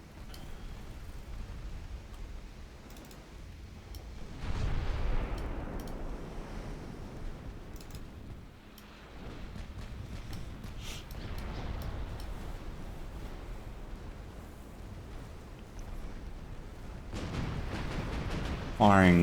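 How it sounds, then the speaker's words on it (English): Warship guns in a naval video game fire high-explosive shells, heard as muffled, distant low booms with rumbling tails rising over a steady wind-and-sea wash, with a voice talking quietly over it. "Firing high explosive, presumably because of the angle"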